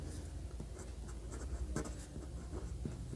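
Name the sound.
writing on a board during a lesson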